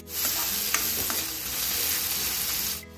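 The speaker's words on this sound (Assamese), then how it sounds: "মাছ ভজা তেলতে পিঁয়াজ দুটা দিছোঁ মিহি মিহিকৈ কুটি" Finely chopped onions sizzle loudly in hot oil previously used for frying fish, with a steady crackling hiss, punctuated by a few clicks of stirring, close up.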